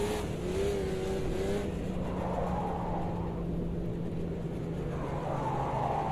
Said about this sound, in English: this car's kind of overpowered for what it is